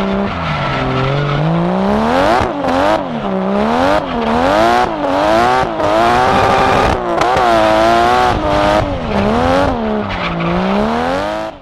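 A Toyota Chaser with a 1.5JZ engine revving hard and driving, loud close engine notes rising and falling repeatedly through gear changes, with brief gaps between pulls.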